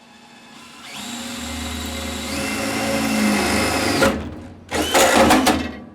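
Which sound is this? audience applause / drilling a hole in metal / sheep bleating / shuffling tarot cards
drilling a hole in metal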